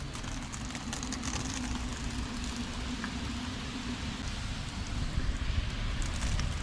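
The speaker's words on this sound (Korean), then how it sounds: "이봐봐 우박이야 난리 나네 난리 났어" Hail clatters down suddenly and densely, a steady loud hiss of pellets striking surfaces close by, with no talk heard.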